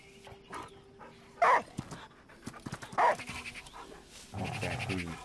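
A dog in the video game Last Day of June pants and gives two loud barks amid soft in-game movement and ambient sounds, ending in a burst of rustling noise.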